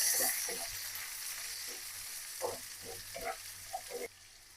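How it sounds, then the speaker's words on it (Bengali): Onions, chopped green chilies and capsicum sizzle in a pan, a soft, steady frying hiss with a few stir scrapes and clatters, fairly quiet and close. It cuts off abruptly near the end. "লাল লাল করে ভেজে নেব।"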